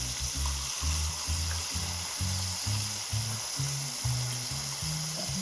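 Steak fries in a pan with a steady, dense sizzle and crackle, close and constant. A low rhythmic pulsing runs underneath, and no one talks.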